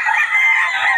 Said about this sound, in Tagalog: ang gaganda ng manok dito